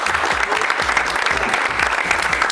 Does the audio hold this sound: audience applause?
yes